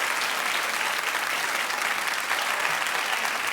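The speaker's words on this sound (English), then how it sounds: "Clap if you think that they need to say something." A studio audience at a television talk show bursts into loud, continuous applause, a dense wash of many hands clapping at an even level throughout.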